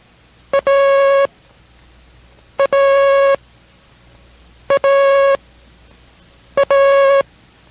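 Morse code CW tones sending the letter A, played four times as separate short-long tone pairs, each a clean steady pitched beep with a short dot followed by a longer dash, evenly spaced and alone without talk.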